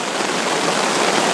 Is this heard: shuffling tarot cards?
no